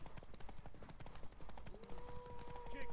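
Horse hooves clip-clop in The Witcher 3 video game, a rapid rhythmic series of quiet thuds running throughout, with a voice talking over the latter part.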